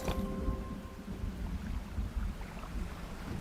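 A thunderstorm in the fishing game DREDGE: a low, rolling rumble of thunder with windy, rain-like noise, fairly quiet and continuous, no voices over it.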